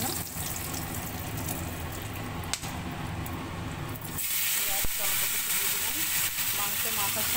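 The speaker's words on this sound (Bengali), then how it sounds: "গরম মশলা ফোড়ন দিচ্ছি, দারচিনি লবঙ্গ এলাচ ফোড়ন দিলাম" Whole garam masala of cinnamon, cloves and cardamom sizzling in hot oil, a dense continuous hiss that grows brighter and crackles partway through, close and steady.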